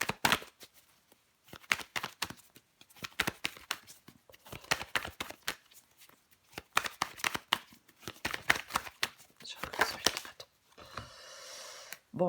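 Tarot cards handled and laid down on a table, a series of quick, close, crisp slaps and shuffling rustles in irregular bursts, with a longer rustling handling sound near the end.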